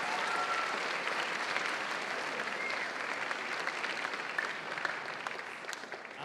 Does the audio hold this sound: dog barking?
no